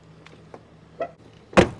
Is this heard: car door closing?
yes